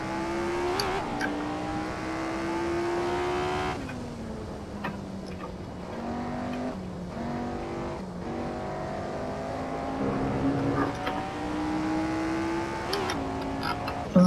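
A race car engine in Assetto Corsa revs and accelerates hard, its pitch climbing through gear after gear with brief dips at each shift, loud and continuous from start to finish.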